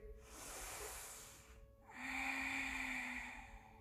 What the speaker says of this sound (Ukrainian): І ще вдих